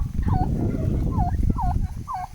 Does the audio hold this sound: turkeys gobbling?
yes